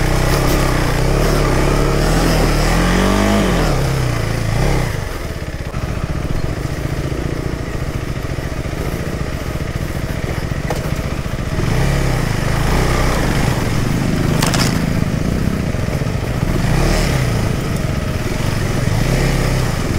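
Several off-road motorcycles grind up a steep deep-forest hill climb, their engines a loud, continuous, close-up drone that rises and falls with throttle for the whole stretch.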